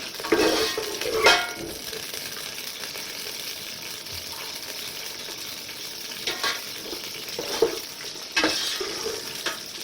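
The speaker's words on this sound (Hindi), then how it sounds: "ये जब फ्राई हो जाएगी ना प्याज" Onions fry in oil or ghee in a pan, a soft continuous sizzle with a few louder stirring scrapes and clinks, close and without talk.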